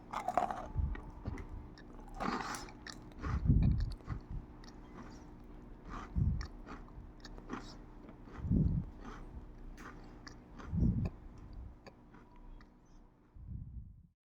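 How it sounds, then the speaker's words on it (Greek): Crisp, crunchy bites into hard dry cocoa rusks, about six distinct crunches spaced a couple of seconds apart, close up with quiet between them. "Ακούστε πώς κάνουν σε κάθε δαγκωματιά."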